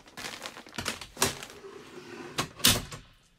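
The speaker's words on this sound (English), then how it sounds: "so that'll fold up into position." Drop-down table on a 2022 Valiant XTD overland squaredrop camper trailer folding up and locking into place: a few sharp clunks and clicks close by, with quieter rattles between them and no talking.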